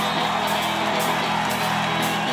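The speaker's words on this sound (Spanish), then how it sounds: "¡Un aplauso!" An audience at a rock concert cheers and applauds, with shouts and whoops over continuous clapping and a sustained musical tone underneath, loud and close.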